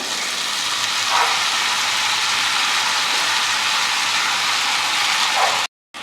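Fenugreek leaves sizzle in a hot pan with fried onions. The frying hiss is loud and steady, with brief stirring scrapes, and the sound cuts out just before the end.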